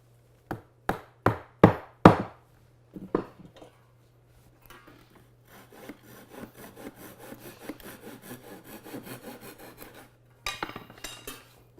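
Hand sawing off a wooden dowel in a breadboard: a few sharp knocks, then a run of quick rasping back-and-forth strokes, close up, followed by a couple of final taps.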